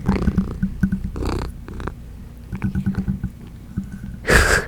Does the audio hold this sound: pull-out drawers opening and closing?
no